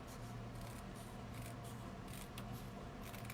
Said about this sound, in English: I'm just gonna trim right along this line here